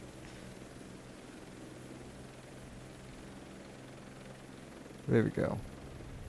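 A steady, droning helicopter rotor and engine wash in the video game Microsoft Flight Simulator 2024 runs throughout at moderate level, with someone briefly speaking near the end.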